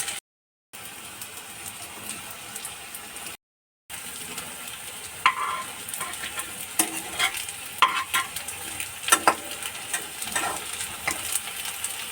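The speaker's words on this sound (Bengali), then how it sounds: "এবারে একটা একটা করে দিয়ে ভেজে নেবো" Slices of green-pea bread toast fry in a couple of spoonfuls of oil, giving a soft steady sizzle that grows livelier with crackling pops as pieces are added and turned.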